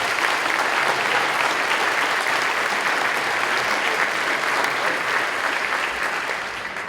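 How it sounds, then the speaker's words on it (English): A school assembly audience claps steadily in a dense, sustained round of applause that fills the hall throughout, easing slightly at the very end. "Let's give them a round of applause again."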